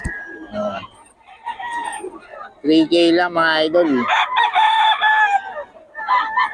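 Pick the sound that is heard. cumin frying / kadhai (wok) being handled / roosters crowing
roosters crowing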